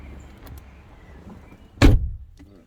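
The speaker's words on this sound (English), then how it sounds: "Good door shut sound." A Mini Cooper S car door shuts with a single loud, solid thunk after a quiet stretch, followed by a faint rattle as it settles.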